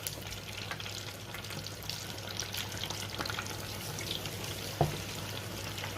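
Chicken drumsticks deep frying in darkening oil, a steady close sizzle and bubbling with a brief clink near the end and no talk.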